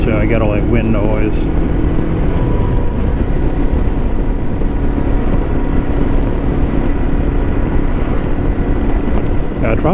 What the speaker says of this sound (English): I get all that wind noise.